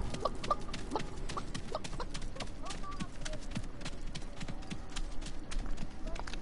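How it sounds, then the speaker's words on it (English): Chicken clucking in the video game Realm Royale, with short bird calls popping up over a busy background of clip-clop hoofbeats and game noise, while voices talk over it. "I hear a chicken."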